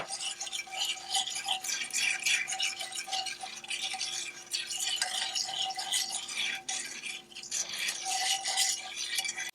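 A whisk stirs a creamy caramel or apple-pie mixture in a bowl, sounding as a steady, close, continuous scraping and clinking rattle with no pauses and no talking.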